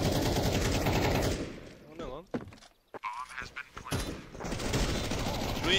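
Rapid gunfire from a Counter-Strike match, dense and loud at the start, dropping away in the middle to scattered game noises and a voice, then resuming heavy sustained firing at the end.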